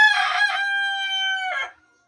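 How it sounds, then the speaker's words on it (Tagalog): A single rooster crows close by in one loud, clear call, a rising cock-a-doodle-doo that holds a long note before breaking off into silence. "at tumulaok pa"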